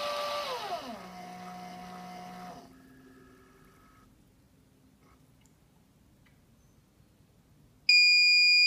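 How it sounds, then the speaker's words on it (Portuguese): An electronic gunpowder dispenser, measuring a charge of CBC 216 powder for cartridge reloading, whirs and then goes quiet before a sharp, loud electronic beep sounds at the end to signal the finished charge. "Na hora que acaba só o bip."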